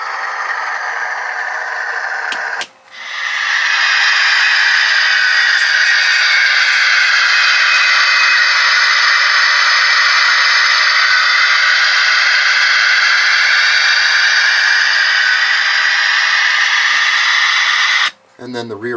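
A Blackstone steam locomotive sound decoder, set treble-heavy with the bass removed, gives a loud, steady, airy hiss of chuffing that runs almost unbroken, with a brief dropout near the start and another near the end.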